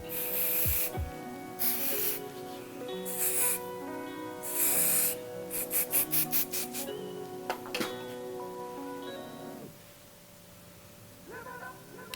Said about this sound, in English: I'm gonna be using a little bit of Kenra Professional Dry Texture Spray for a little added grit